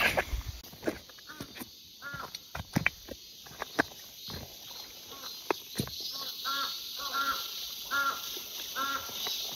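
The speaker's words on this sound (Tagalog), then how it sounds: "Ang ingay ng uwak ba yun?" Crows cawing outdoors in hot weather, repeated harsh calls coming in short bursts at moderate distance over a constant high insect drone, with scattered footsteps and light movement nearby.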